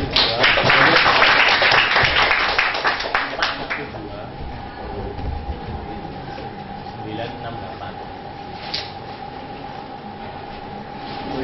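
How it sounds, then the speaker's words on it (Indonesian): An audience gives loud, sustained applause welcoming Ibu Nuni at a community event, dense clapping that fades after a few seconds into room hum and faint murmuring. "Kita sambut Ibu Nuni dengan aplaus luar biasa"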